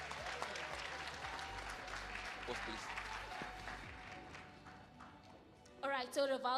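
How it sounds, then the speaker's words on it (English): Audience applause at a national ICT summit: broad, sustained clapping from a large crowd filling the hall, fading near the end as a voice cuts in over it. "Can we give another round of applause, please?"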